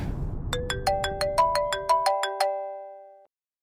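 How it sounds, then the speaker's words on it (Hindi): A phone ringtone plays a rising run of bright electronic chime notes, each with a sharp onset, about a dozen in even succession before fading out into silence. "आ गया फोन।"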